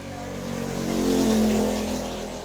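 Steady roadside traffic noise, with a car engine swelling as it passes by and then fading, over a constant low rumble.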